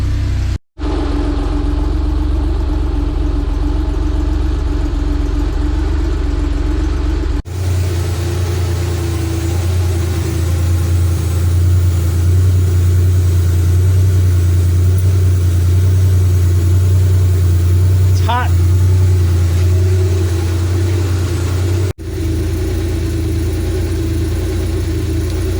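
An air-cooled Porsche 911 flat-six engine runs close and loud at a steady idle, a low even drone with a brief dip and change in tone partway through, with no talk.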